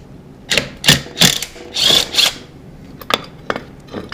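A ratchet working a floorboard bolt on a motorcycle before an oil change: several loud, close clicking bursts of the pawl, followed by a few quicker, lighter clicks.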